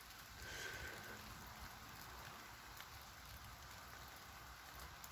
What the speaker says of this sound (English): we'll just have to sit here in the rain.